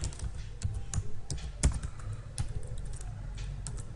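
Rapid keystrokes on a computer keyboard while typing Java code, a quiet, steady run of close clicks with a few louder taps, over a low background hum.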